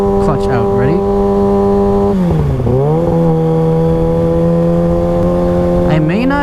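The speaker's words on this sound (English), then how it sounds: "So 2nd gear, I'm gonna do throttle off, clutch in, kick up, throttle again, and clutch out." A motorcycle engine holds a steady note, then drops in pitch and climbs again as the rider backs off the throttle and upshifts into second gear, followed by a steady pull, with a voice heard faintly at the start.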